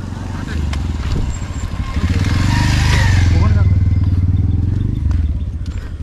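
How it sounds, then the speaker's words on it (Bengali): A motor van, the small motorised passenger cart used on a Sundarbans island, runs its engine with a low, rough chugging that swells louder mid-clip, while a person talks over the rumble. "এখানে যাতায়াতের একটাই বিকল্প এই মোটর ভ্যান"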